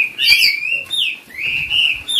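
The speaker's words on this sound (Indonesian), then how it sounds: "Ini pentet gacoran." A pet shrike songbird kept for singing gives clear, close, loud whistled chirps and rising-falling warbling phrases in several bursts, with no talking.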